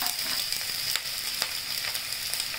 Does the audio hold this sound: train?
no